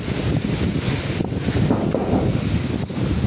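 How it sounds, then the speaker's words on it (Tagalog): Typhoon Emong strong wind roaring and buffeting the microphone with a steady hiss of rain beneath it, gusting unevenly throughout, in Bani. "Yung malakas na yung ulan, ay yung hangin."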